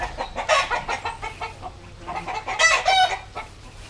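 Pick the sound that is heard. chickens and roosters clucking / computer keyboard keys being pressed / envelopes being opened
chickens and roosters clucking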